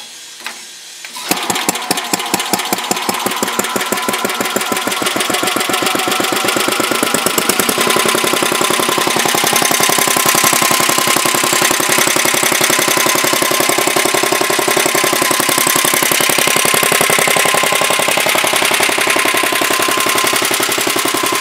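A small old engine on a Bolens 1256 garden tractor cranks, sputters with rapid pops, then catches and runs loud and steady, a continuous rattling chug close by.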